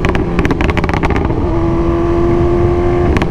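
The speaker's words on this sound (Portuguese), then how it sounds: "Muito carro, muita moto." Steady rumble of busy road traffic, cars and motorcycles, with engines droning close by, a higher engine whine rising midway, and occasional passing vehicles.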